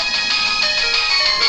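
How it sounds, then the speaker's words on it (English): A ringing phone in the Pokemon HeartGold/SoulSilver video game gives a steady, bright electronic chiming tone that repeats for the whole moment, loud and unbroken, with no voices over it. "Gosh, the freaking phone. Still ringing."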